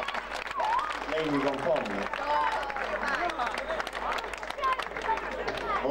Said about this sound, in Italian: un applauso glielo possiamo anche fare